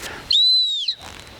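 A single sharp, high-pitched dog training whistle blast during gun dog hunting training in cover, lasting about half a second, loud and close, with faint rustling before and after.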